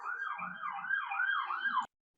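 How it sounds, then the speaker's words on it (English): A wailing emergency siren rises and falls in a steady repeating pattern, fairly loud, in the background of a talk, then cuts off abruptly. "Sorry, there's a siren in the background."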